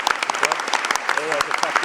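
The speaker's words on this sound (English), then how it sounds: "All right, Dan, I give you a huge round of applause, 5 points" An audience at a science comedy show gives a round of applause, dense close clapping with a voice talking over it.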